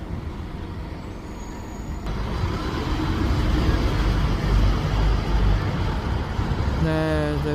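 An Alexander Dennis-bodied Scania N230 bus in Gloucester rumbles past at close range, a loud low engine roar building and holding, followed by a brief hiss and whine near the end.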